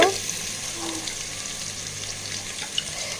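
Chopped garlic going into onions already softening in a hot pan, giving a steady, moderate sizzle throughout with no talking.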